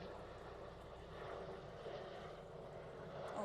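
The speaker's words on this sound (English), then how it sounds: "Let's wait until this helicopter flies above us." A steady, low engine drone of a helicopter passing overhead, constant and fairly faint throughout, with no voices.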